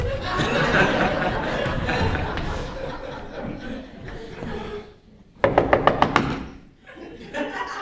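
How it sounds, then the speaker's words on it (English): Knocking at a door, a quick series of about five sharp raps heard after voices and laughter, which return and trail off afterward. "Someone is at my door."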